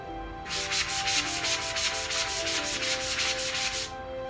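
A painted wooden desk is sanded by hand with medium and finer grit sandpaper, making about a dozen rhythmic back-and-forth scratching strokes, close and steady, with a short quiet moment before and after.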